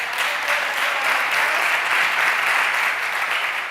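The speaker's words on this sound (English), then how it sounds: "big applause" A ceremony audience at a European data and innovation forum gives a sustained round of applause. It is a thick, even roar of clapping that stays steady throughout with no talking.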